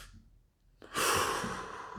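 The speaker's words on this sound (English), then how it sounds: "take a deep breath" A single deep inhalation, fairly close and fairly loud, begins after a quiet pause and carries a broad airy hiss, followed by a long slow exhale that fades gradually.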